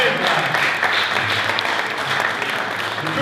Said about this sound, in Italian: Più una mano, prego, un applauso, prego.